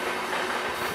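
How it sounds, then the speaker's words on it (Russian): Passing train on a railway line running right beside houses and garden plots, a loud steady rolling rumble with clickety-clack of wheels filling the whole moment close by. "Поезд прямо в огороде."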